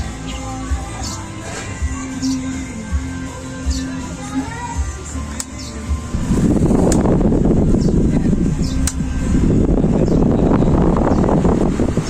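An electric fan with a newly replaced capacitor runs on speed 1, giving a close, loud, steady whooshing rush of air with low motor hum, swelling in intensity midway.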